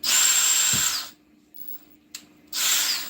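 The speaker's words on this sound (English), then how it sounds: "So I'm gonna take this and I'm gonna drill it going down." A power drill whirs loudly into wood for about a second, pauses, gives a brief click, then spins up again close by.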